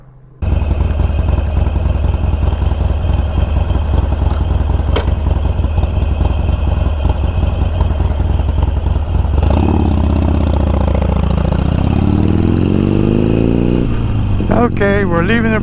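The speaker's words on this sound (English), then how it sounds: "let's jump back on the motorcycle" A motorcycle engine idles steadily and loudly close by on a Florida country road by a bridge, its low rumble continuous throughout, shifting to a rising, changing engine note toward the end.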